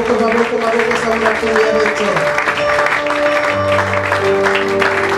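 A church congregation applauding at an evening worship service, steady loud clapping throughout alongside sustained music and voices, filling the room.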